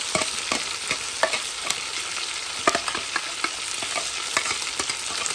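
Onions, garlic and cloves frying in a pot, with steady sizzling and crackling broken by sharp clinks and scrapes of stirring, close and continuous.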